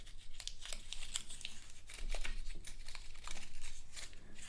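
Paper coin roll wrapper torn open and crinkled by hand, a run of sharp ripping and crumpling bursts close by with coins shifting, no talking.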